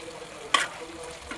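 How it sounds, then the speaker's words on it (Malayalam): Kerala-style chicken roast being stirred in a pan to reduce: a soft, quiet frying hiss with one short scraping stir standing out, close by. "ഇനി ഇത് ഇളക്കി നന്നായിട്ട് ഒന്നും കൂടെ വറ്റിച്ചെടുക്കണം"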